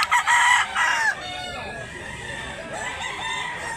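A game rooster crows loudly and close by at a chicken sale in Mantalungon, Barili, Cebu. A strong opening crow is followed by softer trailing calls and faint farmyard background.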